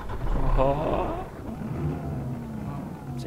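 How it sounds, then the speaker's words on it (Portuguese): A Scania K113 bus engine with Marcopolo Paradiso G4 1150 bodywork starts up in Euro Truck Simulator 2, a low rumbling crank that settles into a steady idle, with a brief exclamation from a man over the start. "vou ligar esse carro aqui"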